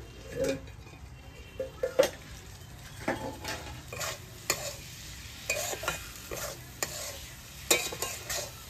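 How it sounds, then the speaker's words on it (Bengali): Spiced chicken for a puli pitha filling is stir-fried dry in a pan: repeated close spatula scrapes and taps over a low, continuous sizzle, with no one speaking. "মাংস কষাটা হয়ে গেছে, এবার আমি নামিয়ে নেব।"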